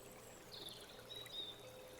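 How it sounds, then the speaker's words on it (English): Water bubbling up from the ground around a fountain gives a faint, steady trickling and pouring wash, continuous and soft throughout with no voices. "the water immediately begins to bubble up from the ground beneath you"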